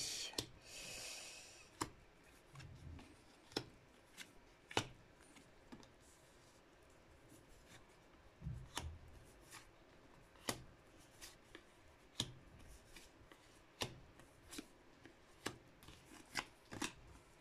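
Tarot cards are shuffled and handled, giving a string of crisp, close snaps and slaps at irregular intervals, with a brief rustling burst at the start and no talking.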